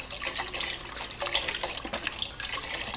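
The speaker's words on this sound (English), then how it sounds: "add 4 more cups of broth to our" Broth pours into a pot of chicken and dumplings, a continuous splashing liquid stream with small gurgles for about three seconds, no voices.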